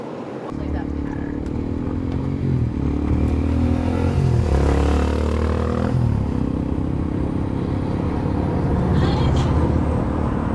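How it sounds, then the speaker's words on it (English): Detroit Series 60 diesel engine on a Prevost XLI bus, heard from inside with a window down around town: a steady, loud low rumble with a rising whine and drone as it pulls, continuous throughout. "is to hear that Detroit Series 60 turbo noise"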